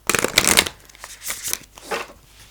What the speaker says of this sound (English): I'll just pull another couple of these Soul's Journey lesson cards for you, okay?